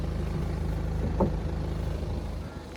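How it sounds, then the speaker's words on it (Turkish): Steady low rumble of a BMW 520d (F10) diesel engine idling, with a faint rhythmic clatter, continuous and fairly close, with no voices. "Tabii ki dizelin löngür löngür sesini duyuyorsunuz."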